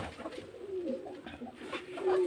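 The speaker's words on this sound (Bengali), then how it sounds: "এই যে পায়রা দেখুন, অবশ্যই ভালো লাগবে।" Pigeons kept for sale at a home loft in Beldanga coo softly in repeated low, rolling calls, close by and fairly quiet.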